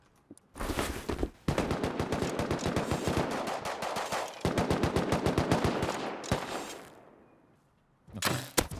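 Sustained full-auto AK rifle fire in the survival game Rust, rapid sharp shots in long bursts with brief pauses between them, loud and close, then a final short burst after a quiet gap.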